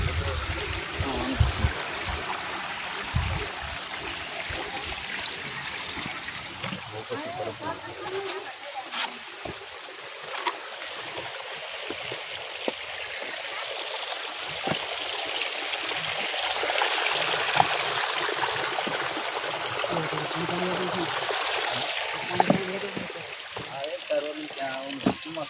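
A stream of water runs steadily beside a stone-stepped path on Girnar mountain in Gujarat, a continuous broadband rush and trickle heard close by, with people talking over it at times.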